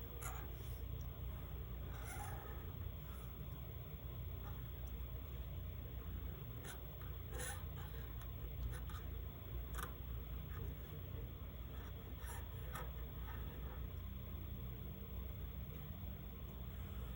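A pen tracing over a rough sketch on paper, soft scratchy strokes in brief bursts over a constant low hiss, close but faint and fairly steady throughout.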